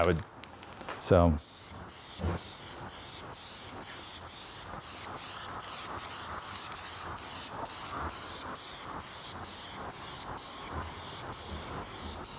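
Spray paint hissing from a can onto a stainless steel Vespa muffler in a rapid string of short bursts, preceded by a brief voice.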